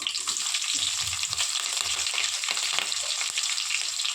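Mustard seeds, cumin, peanuts and green chillies fry in hot oil with a dense, continuous crackling sizzle, close and loud, broken by occasional stirring scrapes and no talking.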